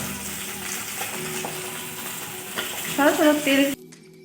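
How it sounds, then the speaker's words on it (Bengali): Fish sizzle and spit as they fry in a pan, a steady close crackle with a few brief tonal scrapes near the end before it cuts off. "এই মাছগুলো ভাজা হয়ে গেছে এরকম করে সব মাছগুলো আমি ভেজে নেব"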